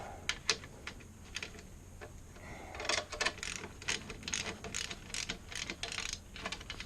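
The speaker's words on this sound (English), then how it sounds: "this will just be a case of getting a 17mm spanner and socket and giving them all a good tighten up" A 17mm spanner and socket tighten sump guard bolts with rapid ratcheting clicks and metallic taps, close and moderately quiet, in bursts that grow denser midway.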